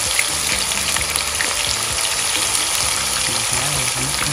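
Fish fries in a pan with a steady, dense sizzle and crackle, close and continuous, with faint stirring underneath and no talking.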